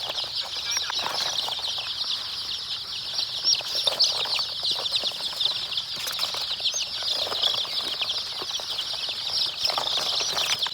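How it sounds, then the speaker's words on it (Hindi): Young chicks being shut into a box for the night give a dense, continuous chorus of high-pitched peeping and chirping, close and fairly loud, with faint rustling and fluttering underneath and no talking. "चूज़े हम क्लोज़ कर रहे हैं, और हम जो वो आज डब्बे में क्लोज़ कर रहे हैं"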